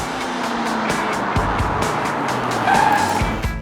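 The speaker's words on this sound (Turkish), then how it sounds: "Tracy lüks arabasıyla çok gösterişli şatafatlı malikanesine yaklaşıyor." A cartoon luxury car drives up to a mansion, its tires squealing and skidding in short bursts over a steady engine hum, loud and close, with a higher whine near the end.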